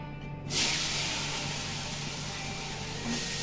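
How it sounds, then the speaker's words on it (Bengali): Potatoes fry in hot oil, a loud steady hiss that bursts in sharply near the start and continues evenly, swelling slightly toward the end. "যাকে আলুটাই ভেজে নিই"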